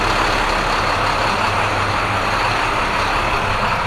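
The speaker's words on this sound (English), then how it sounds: "Sorry for that bus, it's a little bit loud, but work needs to get done." Bus engine running loudly inside a bus body workshop, a steady, dense, broadband roar with a low rumble that holds constant throughout.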